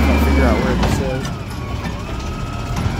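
Burrtec Volvo WX garbage truck in Riverside, California, its engine rumbling loudly up close with a brief high whine early on, while a person talks over the sound.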